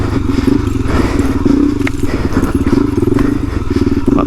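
A Suzuki DRZ 400e dirt bike engine drones steadily up close, pitch shifting as it's flicked through tight left-right turns, with scattered clatters and thuds of the ride underneath.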